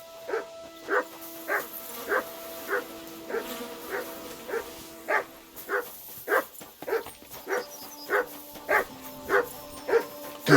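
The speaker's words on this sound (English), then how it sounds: "Good dog, Mutt" Dog barking in the medieval RPG Kingdom Come Deliverance 2, a steady run of about fifteen evenly spaced barks over a tonal game-music bed, close and moderately loud with no speech.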